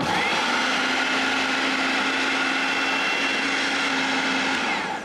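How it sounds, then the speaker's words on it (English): An electric blender runs continuously while mixing soap flakes, giving a loud, steady, high whirring motor whine with a constant pitch, close by and alone. "put the lid in the blender and switch it on"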